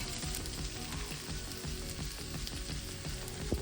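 Potatoes for a Kenyan beef stew sizzling in a pot, a steady, close, dense frying crackle that stays even throughout with no voices.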